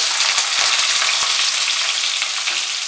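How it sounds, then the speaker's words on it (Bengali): Two medium chopped onions fry in oil over medium heat, a loud, dense, continuous sizzling hiss with fine crackles, close and uninterrupted. "পেঁয়াজটাকে মাঝারি আঁচে একটু ফ্রাই করব।"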